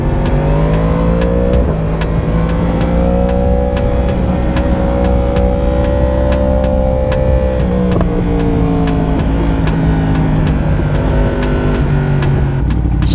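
A Ducati 899 motorcycle on the road, its engine droning steadily loud and close with shifting harmonic tones as revs rise and fall, and brief clicks throughout, with no speech.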